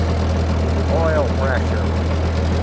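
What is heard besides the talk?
Ford 8N tractor engine idling and warming up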